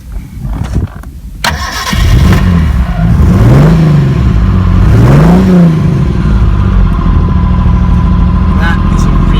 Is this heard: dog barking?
no